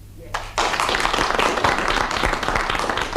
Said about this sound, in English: If so, will you please clap?